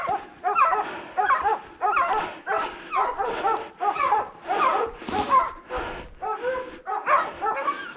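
A hunting dog barks repeatedly during a lynx hunt, loud, close, steady yelps and bow-wows in quick succession, with some whimpering pitch, filling the whole stretch.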